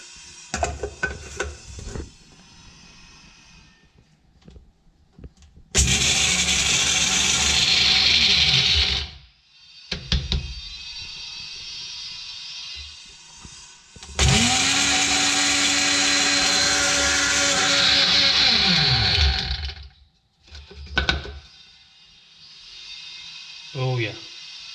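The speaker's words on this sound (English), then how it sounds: "I'm going to use this blender to powderize the pills." Electric blender grinding carbamazepine pills into powder, two loud sustained runs of several seconds each, close by, with quieter rattling and a person talking between them.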